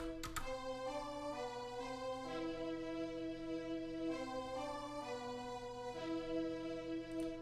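A simple sustained string melody from a software string-pack instrument in a trap beat production, smooth stepwise notes in C held over a steady pad, quiet and alone with no voices.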